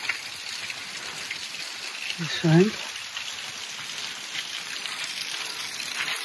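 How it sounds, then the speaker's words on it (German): A waterfall pours over rocks in the Drachenschlucht gorge near Eisenach, making a loud, steady rush of water throughout, with a brief spoken phrase over it. "hier ein wunderschöner Wasserfall an den Felsen. Dann geht das Wasser runter."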